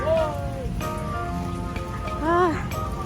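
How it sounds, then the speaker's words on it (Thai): Light rain patters steadily throughout while people walk back through it after a downpour at an outdoor event, with a voice talking over the soft, continuous hiss of drops. "ตอนนี้ฝนเบาแล้วนะเราก็เลยลุยฝนกลับนะคะ"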